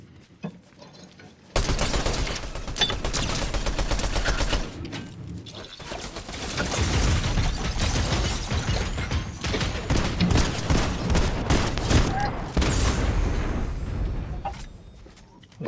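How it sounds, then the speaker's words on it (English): Dense gunfire in a game fight, starting abruptly and running as loud, rapid bursts and overlapping shots for most of the stretch before fading out near the end. "Can you hear this shooting?"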